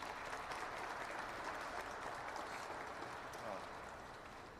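Continuous crowd applause at a youth summit in a state house, dense and even, tapering slightly toward the end.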